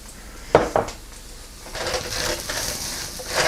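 Flour is stirred into browning meat in a pan for a sweet potato shepherd's pie, with two sharp spoon clacks against the pan followed by a soft scraping, sizzling stir that swells toward the end.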